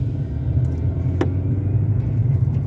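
A 2008 Chevrolet Vectra Elegance with a 2.0 engine, heard from inside the cabin at low speed: a steady, droning engine and road rumble with a faint brief click partway through.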